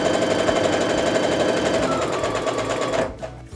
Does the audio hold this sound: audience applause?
no